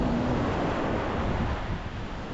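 Sea waves wash in continuously on eroded Kovalam beach along the East Coast Road near Chennai, a loud broadband surf roar mixed with wind buffeting the microphone, with no voices.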